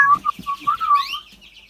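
Pet birds chirping indoors, a short run of clear, bright whistled chirps close by, several quick notes then a rising trill fading out.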